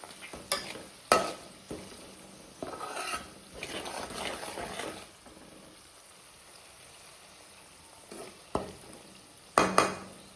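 Chilli powder and salt being mixed by hand into Kerala-style tuna pickle, heard as intermittent close rasping, rubbing stirs in bursts with quieter pauses between them, and no voices.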